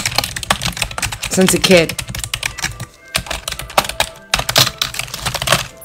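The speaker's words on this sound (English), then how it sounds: "I love typing" Rapid clacking of a computer keyboard, bursts of keystrokes with brief pauses in between, close and crisp, while a person speaks briefly.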